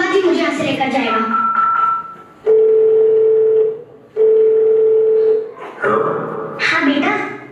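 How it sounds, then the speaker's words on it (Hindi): A telephone call being placed gives two long, steady ringing tones separated by a short pause, loud and close. People talk before and after the tones. "मैं अभी अपने बेटे को फोन करती हूँ।"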